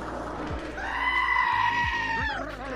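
A video game's Mega Scream emote fires twice in a row, a loud, warbling goat-like shriek that bends upward and sustains, layered over game noise with a few low thumps.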